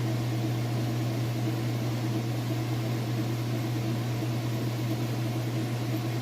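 A Kenmore top-load washer runs its spin cycle fast and evenly, producing a steady, smooth mechanical hum and whir with no knocking or rattles, alone and unchanging.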